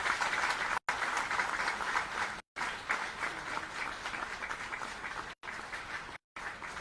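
Crowd applause at a swearing-in ceremony for parliamentary secretaries: dense, continuous clapping from a large audience, broken by a few abrupt dropouts, with no talk over it.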